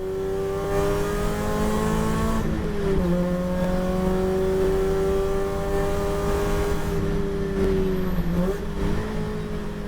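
A race car at the Nürburgring 24-hour race, heard onboard on slick tyres in the wet, roars loudly through steady revving with two sharp dips as the driver shifts or lifts, then builds again.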